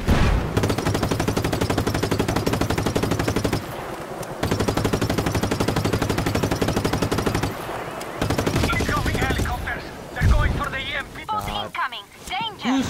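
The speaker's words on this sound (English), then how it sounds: "I don't even know what's shooting at me." Rapid automatic gunfire in the video game Just Cause 3, loud sustained bursts with brief pauses, mixed with other game sounds and a player's voice talking near the end.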